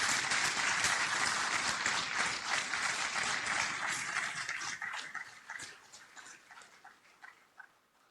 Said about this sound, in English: a massive round of applause to your parents and your professors